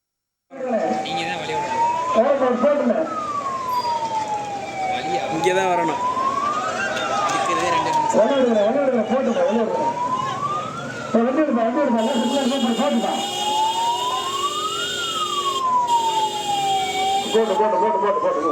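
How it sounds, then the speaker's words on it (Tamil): An ambulance siren wails in long, regular rising and falling sweeps, loud and close for most of the stretch, as it passes an AIADMK candidate's outdoor election campaign speech, with amplified talk and crowd noise underneath. "அவ்வழியாக ஒரு ஆம்புலன்ஸ் வந்தது இதனால் அவர் தனது உரையை நிறுத்திவிட்டு ஆம்புலன்ஸுக்கு வழி விட்டார்"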